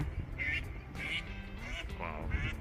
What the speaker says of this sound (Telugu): బాతులు కూడా అరుస్తున్నాయి.